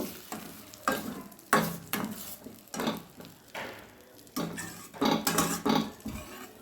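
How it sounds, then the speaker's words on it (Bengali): A spoon stirring paneer gravy in a pan just after a little water goes in, with bursts of scraping and sizzling that come in uneven strokes, some loud and close, separated by quieter simmering. "এবারে গ্রেভির জন্য আমি অল্প একটু জল দিয়ে দেব। ভালোভাবে মিশিয়ে দেব।"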